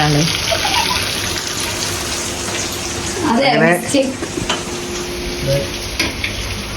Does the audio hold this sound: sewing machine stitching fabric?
no